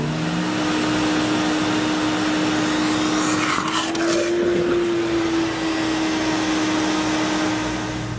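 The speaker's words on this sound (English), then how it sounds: "The Sirena will also function as a wet pickup vac." A Sirena water-filter vacuum cleaner working as a wet pickup vac runs with a steady, loud motor whine and rushing air throughout, with a brief gurgling slurp of water near the middle.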